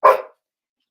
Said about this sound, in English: if my dogs are barking